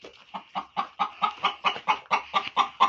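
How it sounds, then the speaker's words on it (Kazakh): A black hen clucks steadily in a rhythmic run of about a dozen close, loud, evenly spaced clucks while laying an egg, with no other voices. "Қоқылдап туып жатыр ғой."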